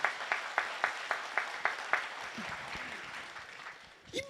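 A church congregation claps faintly in a quick, even rhythm for about two seconds, then the clapping fades into a murmur of voices.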